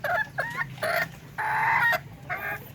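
A hen clucks in several short, nasal calls with a longer drawn-out squawk in the middle, close and fairly clear over a quiet farmyard background.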